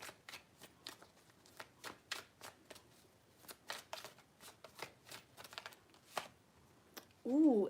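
Tarot cards shuffled up close in a run of quick crisp flicks and slaps, quiet and steady, ending with a brief louder tonal sound.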